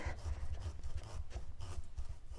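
A kitchen knife rasps back and forth in short, rough strokes through a hard acorn squash, close and fairly quiet, with no voices.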